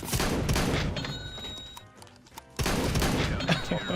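Shotgun blasts from an XM1014 in a competitive first-person shooter, sounding as loud bursts that open the clip, fade into a quieter stretch, and return as a second heavy burst with lingering game clatter.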